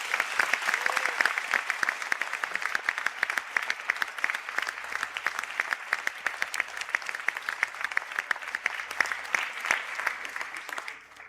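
Audience applause at a college conferring ceremony for graduating computing students, a steady patter of many hands held at moderate distance, fading out at the end.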